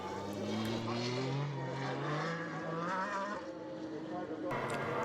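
Formula BOSS single-seater race cars accelerating off the grid at a race start in Ireland, a loud sustained engine roar with rising pitch sweeps as the field pulls away, with commentary talking over it throughout.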